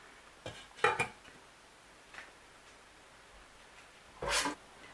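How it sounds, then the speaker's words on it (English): A few scattered clinks and scrapes of a spoon against a pot of boiling white beans, with quiet pauses between the brief stirring sounds. "We're just gonna stir everything up and then take off from the fire."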